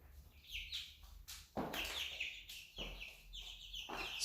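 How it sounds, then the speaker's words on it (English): Chickens in an indoor basement pen cluck and chirp in short, overlapping calls, fairly close and moderately loud, with scratchy movement between calls and no talking. "this is just in our basement, their nice little chicken area."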